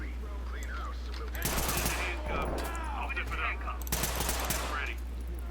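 Bursts of automatic gunfire in Ready or Not, fired at a gas station through the side of a building, come in two loud volleys over a steady low hum, with people talking in between.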